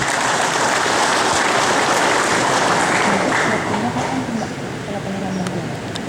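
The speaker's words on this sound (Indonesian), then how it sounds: "Kompak, aplaus lagi untuk kita semuanya." Loud, continuous applause from an event audience in Aceh, a dense steady clatter of many clapping hands that fades slightly toward the end, with faint voices beneath.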